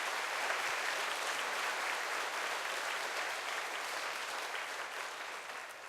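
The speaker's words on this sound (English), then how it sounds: "So a big round of applause for them to organizing all that." Convention audience at Ropecon 2013 applauding the organizers, a dense sustained round of clapping from a large crowd that holds steady for several seconds before tapering.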